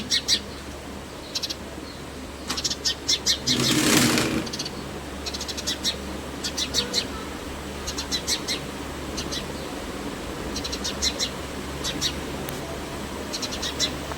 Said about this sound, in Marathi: आमच्या गॅलरीत अशी चिमणी किती छान चिवचिव करत होती